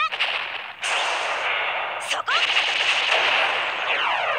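A high-pressure water gun fires in the game Symphogear XD Unlimited, a sustained, harsh rapid-fire blast with brief breaks and sharp restarts, loud and close, with no voices.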